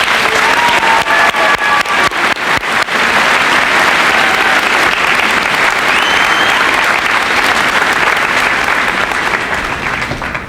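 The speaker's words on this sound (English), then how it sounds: "Let's give them a round of applause." Sustained audience applause at a 1996 high school senior assembly, a steady crowd of clapping hands, dense and close, holding for the full stretch with sharper individual claps near the start.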